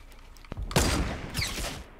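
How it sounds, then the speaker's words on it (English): One sharp, loud sniper rifle shot rings out in Fortnite, followed by a second heavy report and a brief rumbling tail, set against quiet game ambience. "Oh my god, he sniped me."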